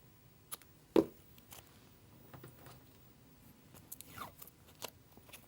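Scissors snip through washi tape while decorating a B6 Stalogy planner, a single sharp close cut followed by faint rustling and small handling sounds.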